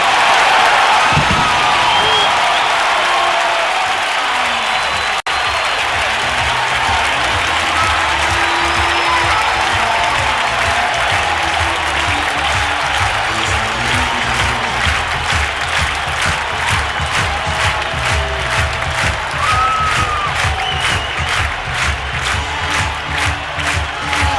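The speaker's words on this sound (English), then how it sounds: "Up and cheering again in Nashville." A stadium crowd in Nashville roars with sustained cheering and applause after a Tennessee touchdown in a 1999 NFL game against Cincinnati, a dense, loud wall of noise with rhythmic clapping building toward the end.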